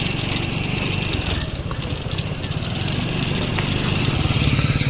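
A scooter engine drones steadily while riding over a rough, broken road, with a constant close motor hum and rattling noise, its level rising slightly toward the end, with no talk.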